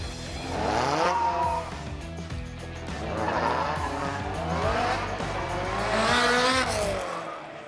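A lightweight track sports car, one of a Zenos E10 R, Radical SR1, Caterham 620R or Ariel Atom, revs hard through repeated gear pulls with squealing tyres, loud and close, with no talk.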